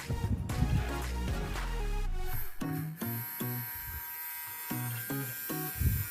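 A small electric motor for an automatic rocking cradle runs and buzzes with a steady whine that rises then settles, interrupted by short stuttering pulses as it labours, close and alone.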